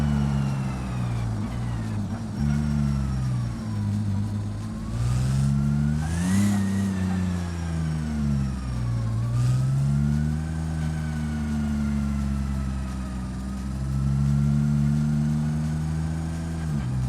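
Simulated car engine in the BeamNG driving game, revving and accelerating steadily with rising and falling harmonic tones as the driver shifts, loud and continuous throughout with no talk.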